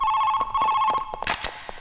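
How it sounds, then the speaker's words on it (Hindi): A telephone bell rings in short repeated trills, loud and close, with no voices. "तेरे घर में फोन की घंटी बज रही है"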